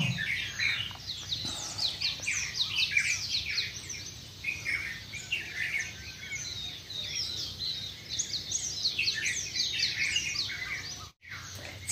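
Morning birdsong outdoors at dawn, with many overlapping chirps and whistled calls, a koel among them, repeating steadily over a quiet background.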